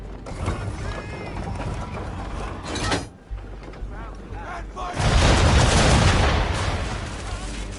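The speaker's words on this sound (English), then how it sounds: "aim all guns at her bow and do as much damage as possible" Ship cannons firing in a naval battle video game boom in heavy, dense salvos over constant loud battle noise, with one deep blast near the start and a stronger, longer barrage rolling through the second half.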